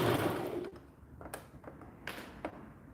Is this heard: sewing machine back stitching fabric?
yes